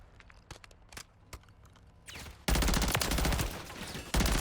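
BP50 assault rifle fire in Modern Warfare 3: a few faint distant shots, then a loud sustained automatic burst from about 2.5 seconds that breaks off briefly and resumes near the end.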